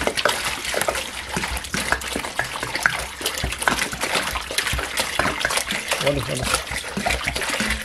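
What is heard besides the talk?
water being poured into a betta fish breeding tank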